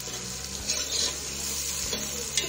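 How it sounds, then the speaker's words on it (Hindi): Tomatoes with ginger garlic paste fry in a pan with an even, close sizzle and a few soft stirring scrapes, short and without any voices. "अब हम इसको इतनी देर के लिए भूनेंगे जब तक हमारे टमाटर"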